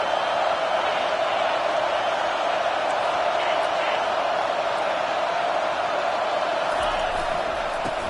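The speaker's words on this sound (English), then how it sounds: "Decibels rising as the crowd gets behind this defense on third down." Stadium crowd noise in the College Football 25 video game during a Utah vs Michigan matchup: a steady, loud roar that holds level for the whole stretch without clear peaks.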